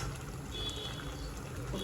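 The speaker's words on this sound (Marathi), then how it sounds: "तुम्ही एवढं पाणी टाकणार" Water is poured into rice in a pressure cooker for veg biryani, a soft, continuous trickling pour heard close and fairly quiet, with no talking.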